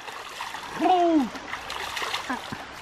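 Someone plunges into a cool, small river running through fields with horses nearby. A short vocal whoop comes just before a close splash, followed by trickling, lapping water.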